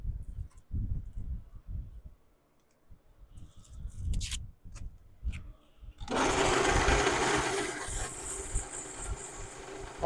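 A Grex sander works a turned wood piece with 220-grit paper, starting about six seconds in as a loud, steady broadband whir that runs to the end after some quiet handling sounds.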